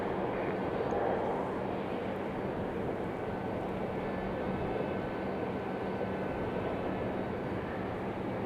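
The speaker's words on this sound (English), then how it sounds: "Our next arrival is Republic Airways once again, 4476. This one coming in from Chicago O'Hare." A Republic Airways jet arriving from Chicago O'Hare at Raleigh-Durham airport gives a faint, steady broadband roar, distant and unchanging, with no voices.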